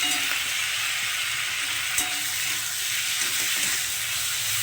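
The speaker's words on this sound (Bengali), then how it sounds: "এখন আমি এর মধ্যে যে টমেটোটা কেটে রেখেছিলাম সেই টমেটোটা দিচ্ছি" Chopped tomato drops into a pan of frying onion, ginger, garlic and chili for a fish curry, giving a steady close sizzle and hiss throughout, with a faint clack from stirring partway through and no talking.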